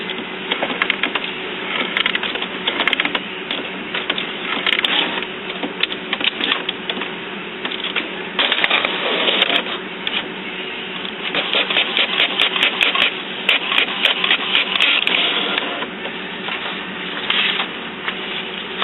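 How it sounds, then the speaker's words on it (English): An HP Photosmart inkjet printer with a continuous ink system prints a report, its print head whirring and clicking in repeated bursts as pages feed through, close and fairly loud. "now I'm going to print out the report."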